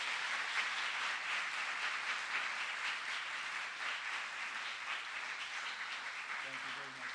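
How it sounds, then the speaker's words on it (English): Audience applause at a university entrepreneurship competition, a steady wash of many hands clapping continuously for the full stretch, moderately distant and even in level. "give her a big round of applause"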